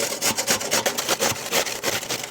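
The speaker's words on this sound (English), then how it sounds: "Starting with 1 English cucumber, going through a box grater." English cucumber rubbed down a metal box grater, quick rhythmic rasping strokes about three per second, close and loud, with no speech.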